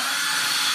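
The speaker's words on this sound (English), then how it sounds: "So we'll go ahead and drill our holes, 3/16 inch bit." A brief burst of a hammer drill with a 3/16 inch concrete bit boring holes, whirring steadily, close and loud, with no pauses.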